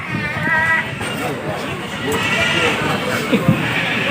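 Goats bleat repeatedly at a goat market in Lampung, several wavering calls over a busy background of crowd chatter and people talking nearby.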